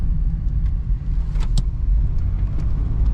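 A classic vehicle with a 4.3L engine rumbles at wide open throttle, a steady, loud low-pitched drone with faint ticks and clicks above it, and no talking.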